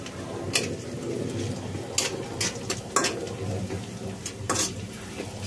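Whole cardamom, cinnamon, black pepper, cloves and cumin seeds frying in a pan for a meat and broccoli dish, a steady low sizzle with several sharp scraping stir strokes.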